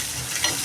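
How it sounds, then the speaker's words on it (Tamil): Hot tempering poured into a pot of mochai (field bean) kulambu gives a short burst of broadband sizzle with a brief louder flare partway through, heard alone with no talking. "மொச்சக்கொட்டை குழம்பு தாளித்து ஊற்றிக்கிறோம்"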